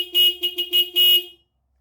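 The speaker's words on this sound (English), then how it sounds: "Here's your horn." A 2009 Yamaha YZF R6 motorcycle horn sounds in five short, loud, close blasts, each a steady nasal beep, before falling silent.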